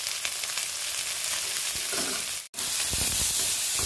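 Cooked cluster beans stirred in a frying pan for a Kerala-style thoran: steady close sizzling and frying hiss with stirring scrapes, broken by a brief silent gap midway, no voices.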